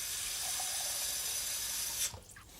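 Water poured into a crock pot with tomato wedges, a steady hissing stream for about two seconds that stops abruptly, followed by a few small splashes and drips.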